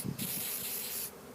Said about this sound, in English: Okay, here's spraying, killing the queen pheromone.